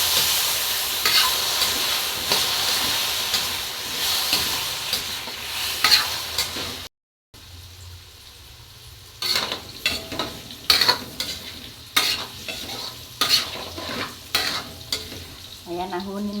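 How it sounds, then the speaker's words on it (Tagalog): Pork fat frying in oil in a pan while cooking menudo, with continuous sizzling, a short gap, then sharper crackles and utensil scrapes and stirring clatter, close and fairly loud. "At lagay ko na yung fat. Prituhin lang natin bahagya."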